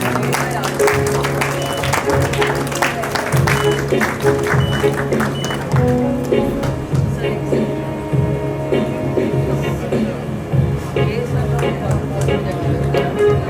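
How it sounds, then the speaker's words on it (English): An audience at an annual school prize distribution applauds a guest, Shri Rakesh Jain, with steady clapping that runs the full length under a voice and some tonal background sound. "A big round of applause, ladies and gentlemen,"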